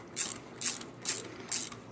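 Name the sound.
ratchet wrench turning while re-rolling condenser tubes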